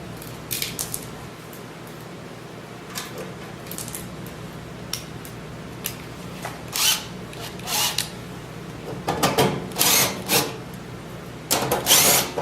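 Scraping and clicking from unscrewing the cover of a Remington torpedo heater, scattered small metallic taps and rattles over a steady low hum, louder clusters toward the end, no talking.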